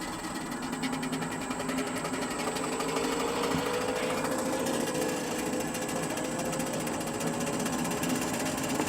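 A belt-driven animal feed machine on a goat farm runs steadily after its belts were tightened, a loud continuous mechanical whir and rattle with a rising whine partway through, alone without talk.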